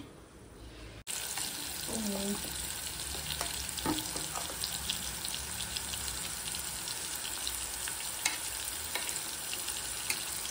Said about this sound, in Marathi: याला मस्त फ्राय कर, कारण की कांदा वगैरे आपला कच्चाच आहे, तर त्याला तेलात मस्त शिजव.